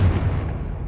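A Confringo fire-blast spell in Hogwarts Legacy: one heavy, booming burst that hits loudly at the start and rumbles on as a deep tail through the short moment, with no talking.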